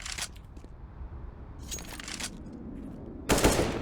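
Pistol gunfire in a professional Counter-Strike match, heard as short bursts of crisp shots at the start, around the middle and near the end, over steady game ambience.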